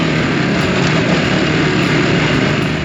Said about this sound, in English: But that twin engine pulled like a train.